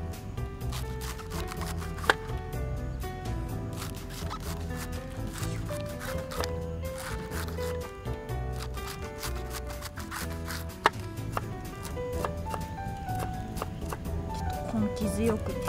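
Outdoors, a knife minces cabbage and green onion on a cutting board with rapid, rhythmic taps that continue steadily throughout, under background music and a voice.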